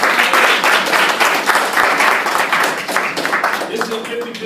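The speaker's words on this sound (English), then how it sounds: "Clap it up for him. Clap it up." An audience at a middle school presentation claps for a student, a loud dense patter that runs steadily throughout, with a voice briefly audible near the end.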